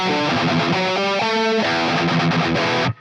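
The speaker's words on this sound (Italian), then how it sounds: "Accendiamo la distorsione super cattiva e ci facciamo metal." EKO electric guitar with heavy, aggressive distortion playing metal: loud, dense palm-muted chugs and riffs with shifting chord stabs, continuous and alone for about three seconds before an abrupt stop.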